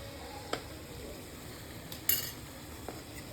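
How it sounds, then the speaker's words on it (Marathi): A fork pricks boiled potatoes, giving a few faint, light clicks and taps scattered over quiet kitchen background noise. "काटे चमच्याने असे टोची मारली"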